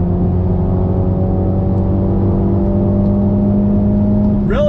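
Engine of a 2020 Mini John Cooper Works Clubman pulls steadily from inside the cabin, a continuous loud drone that rises in pitch near the end as the car accelerates.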